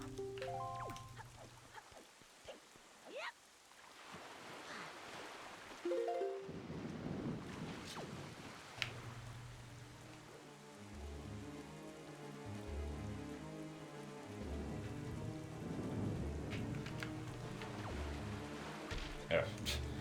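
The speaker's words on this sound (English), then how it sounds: "It's raining because it's Endless Night." Steady rain patters in a video game during an endless night, with low rumbles of thunder rolling beneath it and game music tones drifting through, fairly quiet overall.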